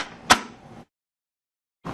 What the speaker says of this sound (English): close the inlet door.